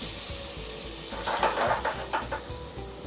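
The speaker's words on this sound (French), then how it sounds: "Là, dans la casserole, je vais mettre mes concombres." Cucumbers drop into melted butter in a saucepan and sizzle steadily, with stirring and scraping from a utensil against the pan, close and moderately loud.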